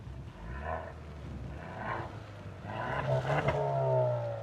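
A Ford Mustang convertible's engine is started and revved remotely from its smart key, a low rumble that swells into a rising, louder rev toward the end, heard at close range.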